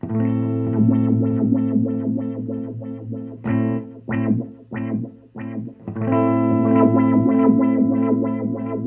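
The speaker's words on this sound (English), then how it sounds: "If, for example, you're using a sweeper delay, you can hear" A sustained synth chord through a Nemesis sweeper delay effect, swirling and sweeping, notes repeating and echoing in a rhythmic pattern that thins out midway before swelling back.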